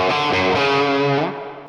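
Electric guitar chord played straight into a high-gain amp, distorted, sustained and buzzy, then fading as it decays; no talking.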